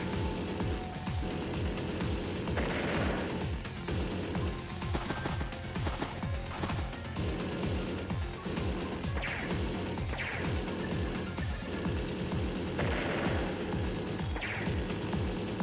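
A war tank comes under battle attack in Advance Wars: Days of Ruin, with dense, repeated crashing impacts and thuds layered over busy game music, loud and continuous.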